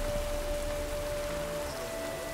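Rain falls steadily in The Witcher 3, a dense, even hiss of rainfall under a faint sustained tone, constant in level and with no talking.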